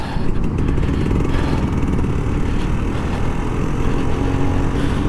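A Kawasaki Ninja RR 150 motorcycle rides through Jakarta after work, its engine droning steadily and loudly up close, with wind and road noise and no voices.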